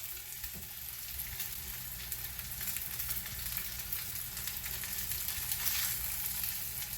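A seabass fillet frying in a pan, giving off a constant, dense sizzle and crackle at an even, moderate level. It stays steady with no stirring or voices, and there is a slight swell near the end.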